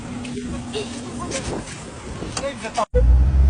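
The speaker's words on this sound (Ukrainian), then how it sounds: "Ми зараз заведемо і ми включимо третю передачу, він ну, поїде." A Volkswagen Golf starts up and pulls away, its engine rumbling steadily under conversation inside the car, with a brief cut before a louder, closer low drone.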